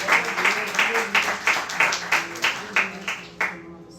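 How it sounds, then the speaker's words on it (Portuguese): A church congregation claps in a steady rhythm, roughly two or three beats per second, the strokes moderately loud in a reverberant room until the clapping breaks off near the end. "Dê uma salva de palmas ao Senhor."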